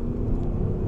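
Audi SQ7 with a 430 bhp V8 accelerating hard on the road, heard from inside the cabin as a loud, steady low engine rumble for about a second, with no talking.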